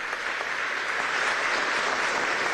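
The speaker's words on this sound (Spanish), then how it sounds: "Un aplauso a la UCB" Applause from an audience at a national science and technology awards ceremony in Venezuela: dense, even clapping that holds steady and loud throughout.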